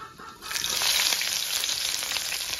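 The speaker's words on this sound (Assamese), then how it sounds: "5 ফোৰণ, পিঁয়াজ, জলকীয়া আৰু তেজপাত মই ভাজি লৈছো।" Five-spice seeds, onion, green chilli and bay leaf fry in hot oil in a pan for chicken, giving a loud, steady hiss and crackle that swells early on and carries on without talking.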